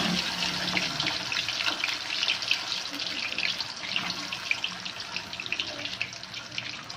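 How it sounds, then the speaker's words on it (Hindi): Chips sizzling steadily in hot oil, a dense continuous hiss and crackle close up, with no talk. "अब मैं जो है चिप्स फ्राई करने लगा हूँ।"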